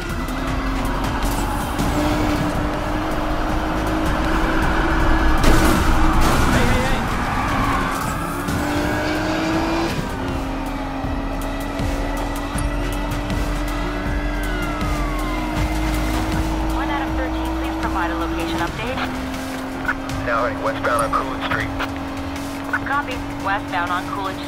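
Cars race aggressively through city streets in a police chase in the video game Need for Speed Payback, with loud revving engines, shifting pitch and squealing tires, while police radio voices talk over the action.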